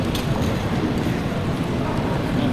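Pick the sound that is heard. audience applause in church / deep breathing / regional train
regional train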